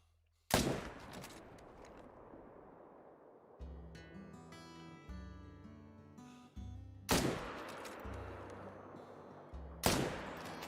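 Rifle shots in a hunting video game: three sharp, loud reports spaced several seconds apart, each with a short decaying echo, separated by quiet stretches and steady tonal game music.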